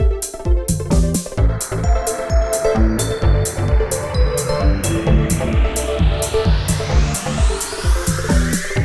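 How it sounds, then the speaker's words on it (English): A rising synthesized sweep builds in pitch over a driving electronic beat with regular drum hits, growing brighter toward the end. "your transition could sound like this."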